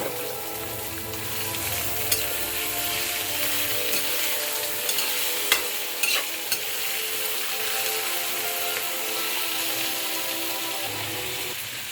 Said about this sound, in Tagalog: ilagay naman natin ang chicken